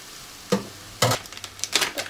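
Eggplant stir-fries in black vinegar miso sauce over high heat, with a few distinct clattering stirs of a spatula against the pan over a low sizzle, close and moderately loud.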